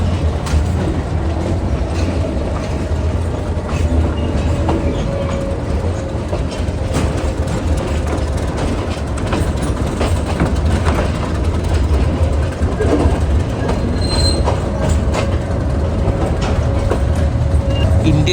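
A meter gauge train running just after leaving Veraval station, with a loud, continuous low rumble and rolling clickety-clack of coaches heard from close by.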